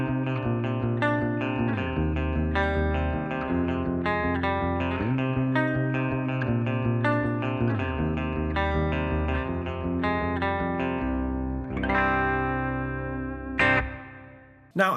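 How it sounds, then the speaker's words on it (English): Clean electric guitar strums a repeating chord pattern, notes sweetened by a smooth plate reverb that lets each chord bloom and fade, ahead of a Dolamo D-2 fuzz pedal demo. No voices. "I've got a touch of plate reverb on this tone just to sweeten things up a little bit"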